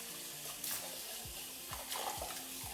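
Rice rinsed under running water in a pot, a brief close burst of splashing and swishing water lasting a couple of seconds.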